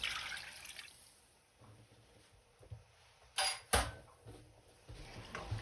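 Water added to a pan of Salisbury steak gravy, heard as quiet pouring and dripping with a few sharp clinks of a utensil against the pan, no voices.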